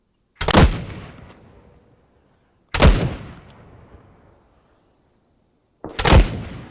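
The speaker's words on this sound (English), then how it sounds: "Both mortars sent 4 shells." Mortar shells launch in ARMA 3 as three loud, separate thumping blasts spaced a couple of seconds apart, each followed by a long fading rumble, heard alone without speech.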